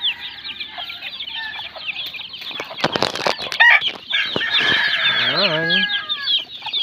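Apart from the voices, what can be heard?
pet chicks chirping and clucking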